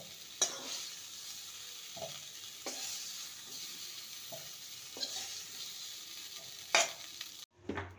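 Cauliflower and potatoes frying golden in a pan, a steady soft sizzle broken by several louder scraping stirs of a spatula, close and without talk.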